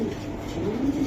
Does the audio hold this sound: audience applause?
no